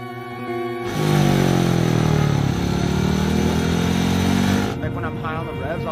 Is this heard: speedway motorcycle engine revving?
yes